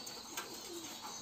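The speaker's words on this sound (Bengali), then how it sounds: "সব কবুতর আশা করে আসছে" Pigeons cooing in a loft at feeding time, a faint low coo amid quiet background noise, distant and brief.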